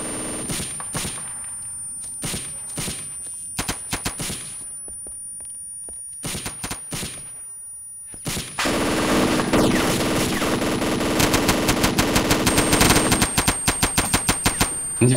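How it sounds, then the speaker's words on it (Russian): Bursts of rapid machine gun fire in the video game ArmA 2 with the ACE mod, first in short volleys with pauses, then a long sustained stretch of dense shooting with metallic clanks, fairly close. "пулеметчик тупо для шума стреляет,"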